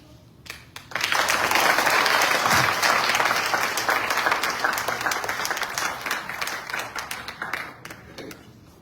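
An audience at a youth yajna in a Hindu temple hall bursts into applause after a talk, loud sustained clapping from many hands that starts abruptly and gradually thins out, with a few voices mixed in.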